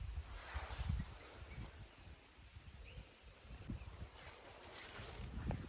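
A cool, gentle breeze blows outdoors across a garden plot, heard as a soft, steady rustling wash with faint low gusts. It stays quiet throughout and no one speaks.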